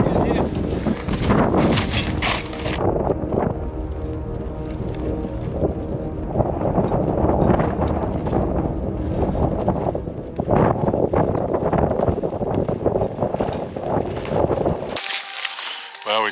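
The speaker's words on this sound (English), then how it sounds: "the wind keeps shifting too" Strong, gusting mountain wind of about 80 mph buffets the microphone in a loud, continuous roar that surges and drops, with brief voices mixed in before it cuts off near the end.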